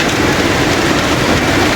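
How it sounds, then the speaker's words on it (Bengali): Heavy rain pours onto a balcony in Dubai, a dense, loud, unbroken hiss of falling water with no voices. "আপনারা দেখছেন বৃষ্টি পড়ছে, হ্যাঁ এত জোর বৃষ্টি পড়ছে"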